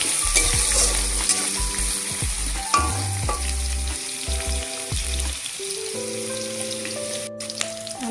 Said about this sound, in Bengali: আলুটা একটু লাল লাল ভাজা হয়ে গেছে